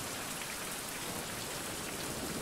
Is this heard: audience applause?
no